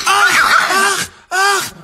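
A chihuahua gives drawn-out, whiny moaning vocalizations, one longer wavering cry followed by a short pause and a second shorter yowl, close and fairly loud.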